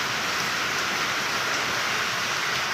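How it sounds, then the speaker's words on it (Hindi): Heavy, continuous rain pours down in a steady, unbroken hiss, with no voices and no pauses, during a monsoon downpour on Nag Panchami. "इस साल भी इतनी तेज़ बारिश हो रही है ना, लगातार ही बारिश हो रही है, लगातार बारिश।"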